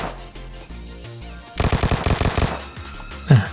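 Automatic gunfire from the video game PUBG, played on a Poco X3 NFC phone, cracks out in a rapid burst of about a dozen shots, followed by a single louder shot.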